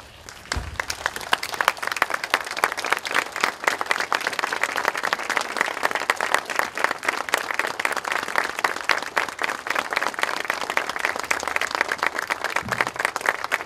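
A standing crowd at a September 11th tenth-anniversary memorial ceremony applauds. The clapping is steady, dense and sustained from start to finish.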